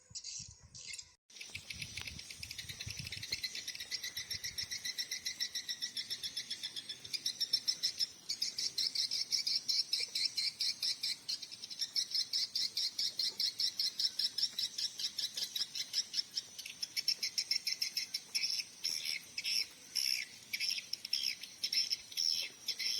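Lovebirds in an aviary enclosure fitted with a newly installed lamp chirp busily, a dense, continuous stream of shrill, rapid, pulsing calls that carries on steadily without pause, close and fairly loud.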